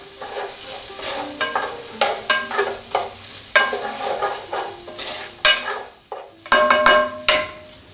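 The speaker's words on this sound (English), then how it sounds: "I'm just gonna put it with the onions to fry them a little bit." Chopped ingredients frying with onions in a pan, a soft steady sizzle broken by repeated scraping strokes of a stirring utensil, close and moderately loud.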